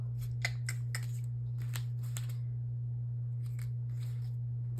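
Scissors cut scrapbook paper in a run of crisp, rhythmic snips, grouped in two clusters, heard close over a steady low electrical hum.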